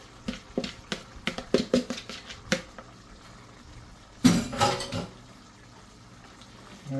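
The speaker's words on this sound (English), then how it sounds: "now we're going to go ahead and add our plantains back in" Plantains dropped back into a pan of pork for fajitas, with a run of quick crackling spatters followed by a louder burst of sizzling that fades to a low hiss.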